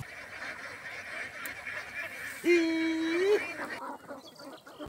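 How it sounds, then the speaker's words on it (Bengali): Soft background noise, then a single loud, nasal honking call from a nearby duck in a flock on village pastureland in Bogura, lasting about a second. "প্যাক প্যাক শব্দে চোখ জুড়ানো হাঁসের মিছিল"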